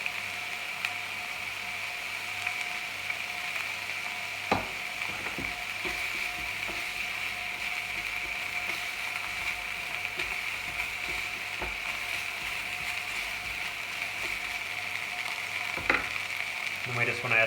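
Garlic frying with pancetta in a pan, a steady close hiss of sizzling fat running throughout, broken by a few sharp clicks and utensil knocks.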